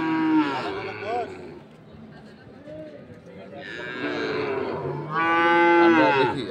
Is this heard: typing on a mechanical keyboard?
no